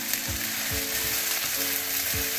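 Boiled chicken liver and gizzard fry in a hot pan for pepes, giving a steady, loud, close sizzle with soft stirring scrapes every half second or so.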